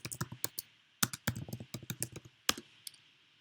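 Rapid clicking on a computer keyboard, irregular bursts of close, crisp keystrokes with short pauses between words.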